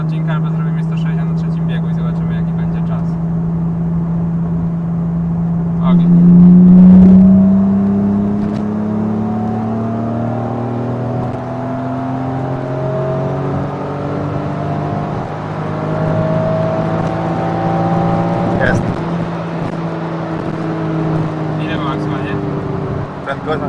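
Tuned 233 hp BMW E36 328i pulling hard from 100 to 160 km/h, a steady engine drone rising in pitch through the run with a brief swell partway, heard from inside the car with people talking over it.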